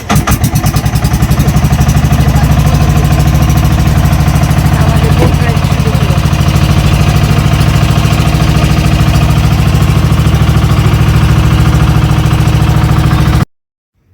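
A tourist outrigger boat with bamboo floats on both sides runs its engine steadily on the way to the Philippine underground river, a loud, constant low drone with rapid thumping pulses lasting nearly the whole stretch before cutting off.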